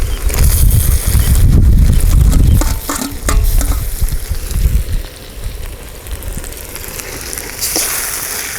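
Tomatoes and onions sautéing in a pan for a village-style country chicken curry cooked over a fire, loud stirring and scraping over heavy sizzling that eases into a lighter, steady frying hiss.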